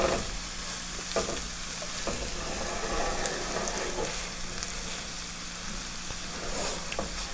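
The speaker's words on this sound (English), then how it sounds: "we're going to get our onions and our bell pepper in the skillet" Onions and bell pepper sizzling in olive oil in a skillet, a moderate, even frying hiss with a few stirring clinks and scrapes, heard up close with no voices.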